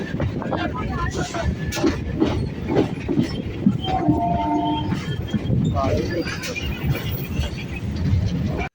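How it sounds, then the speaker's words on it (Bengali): A suburban passenger train on the Sealdah–Lakshikantpur line pulls into the busy Mallikpur station, a steady rumble with clattering wheels and brief tonal squeals, while voices murmur throughout. "আমাদের ট্রেনটা ঢুকছে মল্লিকপুর স্টেশনে"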